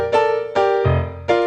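A piano plays one short measure from a song, four quick chord and bass strikes in a brisk rhythm, close and clear, with no voices.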